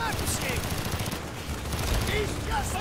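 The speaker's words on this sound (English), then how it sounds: "I'm just shooting it all. I'm just gonna shoot everything." Bursts of automatic gunfire crackle in Call of Duty Black Ops, repeated shots running together at mid distance with voices talking over the battle.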